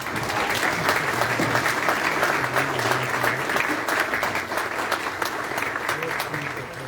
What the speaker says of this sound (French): j'aimerais moi vous applaudir